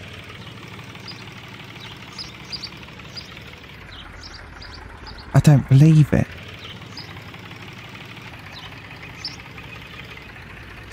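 A tractor engine idles steadily in the farming video game Farmer's Life, a low continuous chugging hum throughout, with a brief louder rev in the middle and a voice speaking over it.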